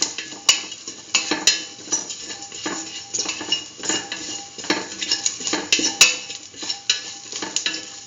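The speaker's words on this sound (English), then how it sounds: "Mix it with the rest of the mixture." A spoon scrapes and clinks against a bowl while spices and fennel and nigella seeds are stirred into a mixture, sharp metallic taps and rhythmic scraping close up, with a faint sizzle beneath and no speech.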